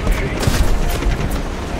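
Heavy cannon fire and shell blasts in War Thunder, from 23mm cannons aimed at a Tu-4 bomber amid biplanes: loud, dense rumbling booms pile up steadily across the whole stretch, with a voice speaking over them.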